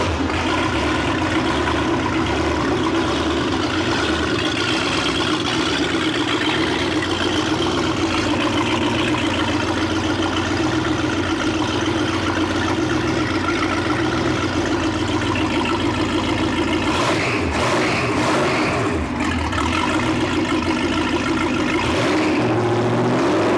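A 1994 OMC Cobra 5.0L inboard boat engine runs steadily at a loud, close idle with a continuous low rumble, a slight squeaky belt, and a brief change in tone near the end.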